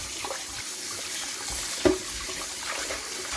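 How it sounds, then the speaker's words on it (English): Tap water runs steadily into a sink while boiled beef tripe is washed, a continuous hiss with one brief splash partway through, and nobody talking. "So we need it to wash until the water is clear."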